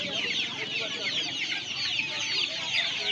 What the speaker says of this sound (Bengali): এখানে ক্রয়লার মুরগিকে সবাই অস্ট্রেলিয়ান বলে ডাকে, তবে এটা ক্রয়লার মুরগি